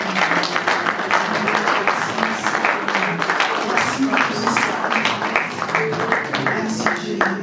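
A church congregation at a worship service applauds steadily and cheers, with continuous dense clapping and overlapping voices filling the room throughout.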